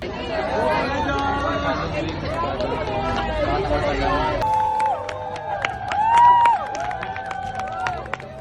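Law students gathered outside the bar exam venue shout and cheer loudly in support of examinees, a dense crowd roar that shifts into sharper whistles and rhythmic chants over continuous chatter.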